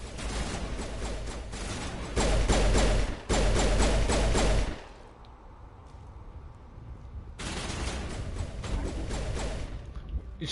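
Gunfire in the video game Mass Effect Legendary Edition: loud bursts of rapid automatic fire in stretches, dropping to a quieter lull before another sustained volley.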